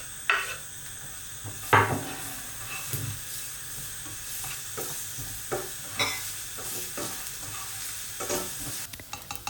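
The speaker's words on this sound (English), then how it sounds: "Add the garlic first and fry until you smell it." Garlic frying in a few tablespoons of hot oil in a pan for Thai pad krapow, a steady close sizzle broken by scraping clatter from a utensil stirring it, with louder knocks of metal on the pan scattered through.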